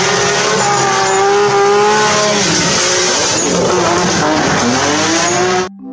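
Race car sound effect from a toy-vehicle showcase: a loud, close engine whine rising and falling in pitch with tire squeal and skidding, running steadily for about six seconds before stopping abruptly.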